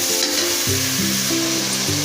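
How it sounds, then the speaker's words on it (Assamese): Chatpati greens fry in a pan with a steady, close sizzle and crackle, the pitch of the hiss shifting slightly as they are stirred. No one speaks. "এইখিনি এতিয়া মই খুব সুন্দৰকৈ ভাজিব লাগিব।"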